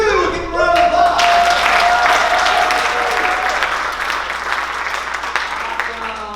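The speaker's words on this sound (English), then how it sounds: "Give them a round of applause." An audience at an improv class show claps and cheers for performers taking the stage, a dense burst of applause that swells quickly, then tapers slightly while staying full, with a voice briefly heard at the start.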